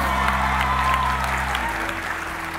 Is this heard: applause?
yes